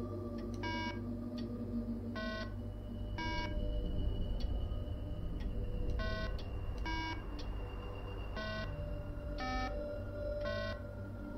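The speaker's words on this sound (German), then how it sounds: "den Wecker konnte ich auch nicht ausmachen" An alarm clock in the video game The Nightfall gives repeated electronic beeps at irregular intervals over a steady low background hum, faint and without speech.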